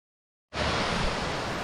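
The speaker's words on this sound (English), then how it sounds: "We can hear the waterfall from here." Steady broadband roar of the Tanglir waterfall near Kuala Lumpur, starting abruptly after half a second of silence and continuing loud and constant, with no voices.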